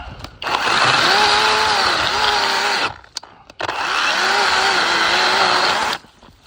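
A GTM CS18/250BL cordless 18 V chainsaw with a 25 cm bar cuts a tree stump, running hard in two long bursts of steady, buzzing whine, with a short gap between them and a slight pitch sag under load.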